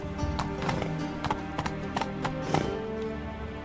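Horse Roach gallops in The Witcher 3 with a steady, rhythmic clip-clop of hooves, loud and close, layered over game music and ambience, with sharper hoof strikes standing out now and then.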